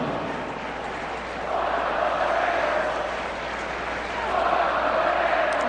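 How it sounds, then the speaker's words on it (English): A college football crowd of Idaho Vandals fans at a game against Washington State chants in rhythmic waves, a broad distant roar swelling twice over the stadium murmur. "Got a little "Let's Go Vandals" chant going."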